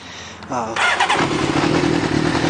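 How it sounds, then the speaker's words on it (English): A 1986 Kawasaki 600R Ninja motorcycle with a Vance & Hines Super Sport exhaust cranks briefly, then fires up and settles into a loud, throaty rumble close by. "Let's crank it up and hear that Vance & Hines Super Sport exhaust, because it really sounds good."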